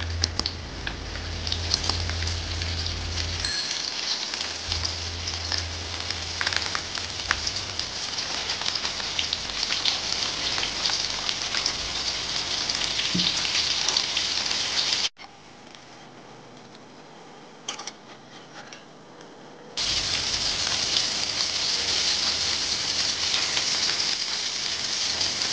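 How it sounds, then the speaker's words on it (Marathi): Rava-coated bangda (mackerel) fried in hot oil in a pan gives a steady, loud sizzle and patter throughout. It drops briefly to a quieter hiss midway, then returns to full strength. "आता आपण एक एक बांगडा फ्राय करून घेणार आहोत।"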